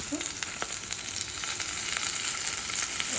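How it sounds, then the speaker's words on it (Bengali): Sliced onions fry in hot oil in a pan with whole garam masala and dried red chillies, a steady close sizzle with a few crackles, alone and without talk. "একটু ভাজা ভাজা করে নিই হালকা করে"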